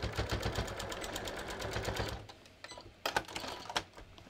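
A sewing machine stitches a welt pocket at a fast, even rattle for about two seconds, then stops and gives a few short, separate clicks and thuds.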